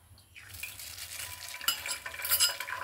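Beaten egg hits hot oil in a pan and fries, a quiet start rising into a bright, crackling sizzle with stirring clinks, close and with no one talking.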